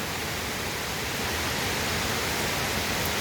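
Heavy July monsoon rain pours steadily over a flooded garden in front of a residence hall, a dense, unbroken hiss that stays even and close throughout with no voices.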